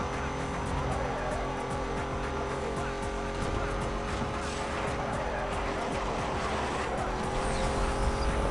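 Race car driving in Need for Speed Most Wanted, a steady loud engine drone with shifting pitch and faint tire noise running continuously, with background music underneath.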